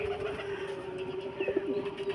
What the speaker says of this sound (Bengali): এই দাদার বাইরে কিছু পায়রা আছে, দেখে নিন